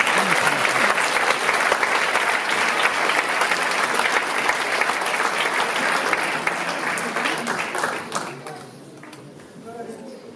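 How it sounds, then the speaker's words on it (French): An audience applauds the mayor at a jubilee celebration, loud sustained clapping from a large crowd that tapers off toward the end as the hall quietens. "On peut l'applaudir, s'il vous plaît."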